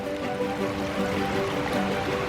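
Gravelly Creek cascading down a mountainside at the Cloister at Three Creeks in spring, a loud, steady, close rush of tumbling water with no voices.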